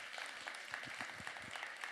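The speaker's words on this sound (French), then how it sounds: "on peut les applaudir de nouveau" Audience applause at an influencer strategy awards ceremony, a short burst of steady clapping from a crowd, moderately faint and continuous, with no speech over it.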